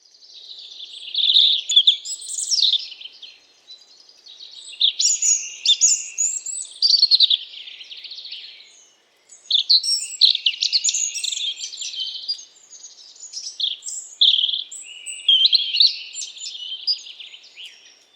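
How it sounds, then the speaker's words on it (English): A European robin sings its autumn song in the fall, a long run of high, thin, varied warbling phrases that goes on almost without a break, clear and fairly close with no voices. "The females and males do have a signature autumn song that they sing in the fall."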